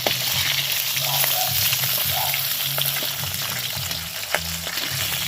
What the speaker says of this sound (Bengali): দেখো মাছগুলোকে পুরো লাল করে ভেজে নিয়েছি লেজ মাথা সব কিছু